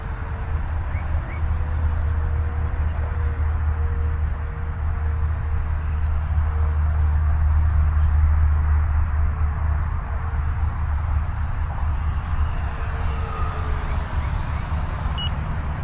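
An FMS F-35 V2 64mm EDF radio-controlled jet flies at about half throttle, giving a steady, loud ducted-fan roar and whine that holds without a break, slowly swelling and easing as it passes.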